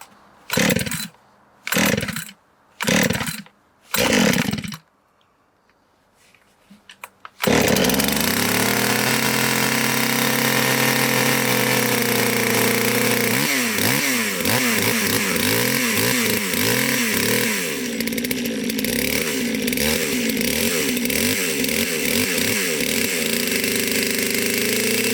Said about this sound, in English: Saw is pretty well warmed up.